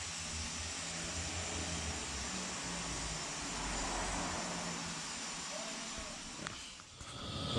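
A pump fill rig pushing propylene glycol into a snowmelt loop, running as a steady loud whooshing drone that holds nearly unchanged throughout, fading slightly at the very end.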